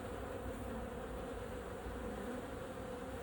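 A wasp buzzes steadily near the mesh of a weak honeybee colony's hive, a continuous dense drone up close with no pauses.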